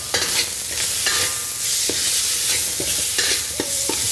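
Minced garlic sizzles loudly in a hot pan alongside cabbage, carrots, bean sprouts and green onions, with a constant bright hiss broken by repeated scraping stir strokes close by and no voices.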